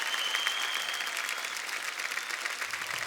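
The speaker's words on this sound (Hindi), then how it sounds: "सूर्य के लिए जोरदार तालियां।" A studio audience on a Hindi comedy talk show breaks into loud, sustained applause, a dense even wash of clapping that holds steady for several seconds with no talking over it.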